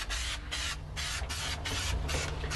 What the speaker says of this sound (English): So, just going to start spraying.